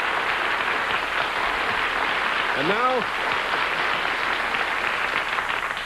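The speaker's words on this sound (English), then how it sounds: "we have not heard applause like that for, 20 minutes or so" Steady studio audience applause on a 1972 television game show panel, continuous throughout, with someone briefly speaking over it partway through.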